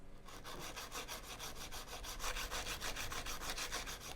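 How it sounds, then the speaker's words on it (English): A file scrapes along the side of an acrylic nail tip in fast, even back-and-forth strokes, a close, steady rasping rhythm with no voices. "Filing the side. Then filing the side."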